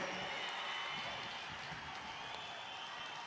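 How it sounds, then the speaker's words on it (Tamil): A large crowd claps and cheers at a Viduthalai Chiruthaigal Katchi political rally in Kallakurichi, a steady dense roar of applause and voices filling the whole stretch without a break. "கைகளை தட்டி ஆரவாரம் செய்து நிறைவேற்றி தருமாறு உங்களை மெத்த பணிவோடு கேட்டுக்கொள்கிறேன்"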